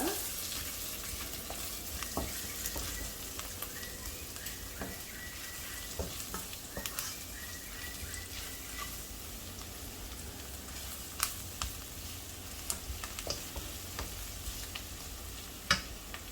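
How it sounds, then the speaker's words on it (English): Prawn curry with belachan sizzles and fries steadily in a pan, with scattered sharp clicks and scrapes from a spoon stirring through it, moderately close and with no one talking. "Cook this all well. Give it a good stir."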